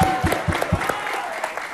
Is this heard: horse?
no